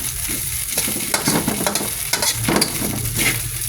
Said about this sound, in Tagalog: let it be fry more, maybe 2 minutes